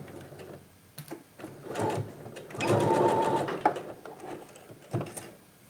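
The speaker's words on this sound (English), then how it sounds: "I'm sewing with 5/8 of an inch" A sewing machine stitches a pant seam at a 5/8 inch allowance, running in short bursts that swell into a steady whir near the middle. The whir is close and moderate in level, with small clicks and handling noises around it.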